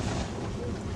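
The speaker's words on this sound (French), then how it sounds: "dehors il y a un vent terrible" Strong wind blows outside a tent in Ladakh as a loud, continuous rumbling roar with gusty low buffeting against the fabric, filling the whole second.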